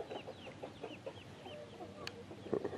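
Chickens near a pond cluck in short, scattered calls, fairly faint, with a brief sharper sound near the end.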